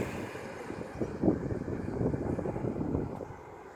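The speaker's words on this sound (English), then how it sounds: "a plane passes overhead" A plane passes overhead beside a railway overbridge in light rain, a steady broadband roar with some wind buffeting that swells slightly mid-way and holds fairly close throughout, with no voices.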